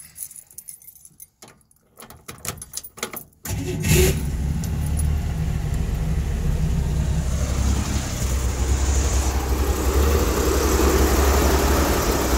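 Keys jangle and clatter briefly before a small petrol engine cranks and catches, then settles into a loud, steady, close idle that keeps running to the end.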